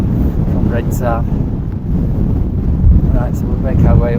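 Strong wind roars across a Lake District mountain ridge near Catstye Cam and Red Tarn, buffeting the microphone in a constant loud rush while someone speaks over it.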